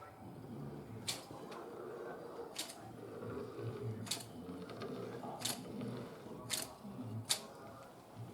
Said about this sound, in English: now I can just get my sealant, run a couple of beads down it